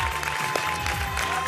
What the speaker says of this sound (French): Les Chouarins très fair-play qui applaudissent leurs adversaires.